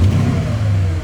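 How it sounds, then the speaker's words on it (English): A 2013 Porsche Panamera engine running close by: a steady, low mechanical rumble with a slight rev at the start, loud and alone for about a second. "We're going to go ahead and crank the vehicle up."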